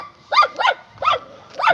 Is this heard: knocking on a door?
no